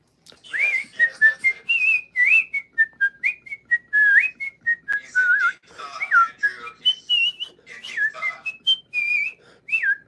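A person whistles a wandering melody while working, a string of clear sliding and warbling notes in short phrases with brief gaps, close and alone with no talking.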